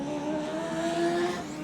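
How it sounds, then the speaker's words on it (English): Modlite race cars circling Archerfield Speedway, their engines blending into a continuous high, droning whine with rising and falling pitch, heard from a distance without talk. "So as they come towards the end of this race, cars are falling out."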